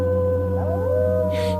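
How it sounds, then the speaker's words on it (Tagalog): A drawn-out, wavering monster howl used as a horror story sound effect, rising and bending in pitch over a steady low drone, loud and close with no talk. "nakarinig siya ng alulong ng kung anong halimaw mula sa magharang bahay"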